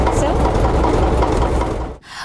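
A tractor engine runs with a loud, steady, rough rumble close by. It keeps going without a break for about two seconds, then dips briefly near the end.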